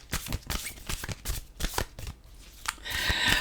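Oracle cards are shuffled by hand in a series of quick riffling and tapping bursts, close and crisp, ending in a longer brushing riffle.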